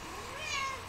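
An angry cat lets out a single short, strained meow, fairly faint against a steady background hum, with no talk over it.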